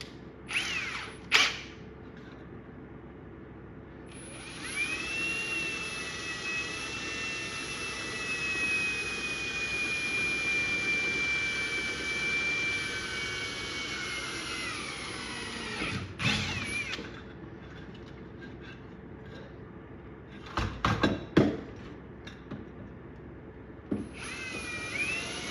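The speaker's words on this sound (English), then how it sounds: "Let's get the other 2 holes drilled." Power drill boring holes into a metal carburetor in a shop, a sustained high whine for about twelve seconds with brief start-up bursts and short drilling spurts before and after.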